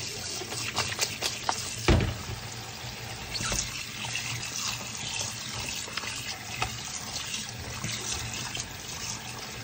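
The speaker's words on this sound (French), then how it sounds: "Je les rince dans la passoire" Running tap water splashes over sardines in a colander, a steady close rushing with occasional louder spatters and clatters, no voices.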